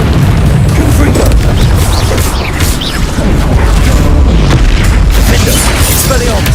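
A Confringo fire spell exploding in the video game Hogwarts Legacy, with dense booming blasts and crackling impacts layered over continuous combat noise, loud and close throughout.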